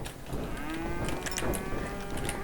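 A cow moos in a video game, one long drawn-out bellow heard close and clear, with faint game sounds behind it.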